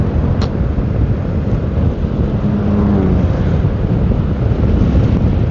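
Heavy wind buffets a mini wireless microphone clipped on a rider, a loud, continuous rumbling roar close to the mic with faint passing traffic underneath.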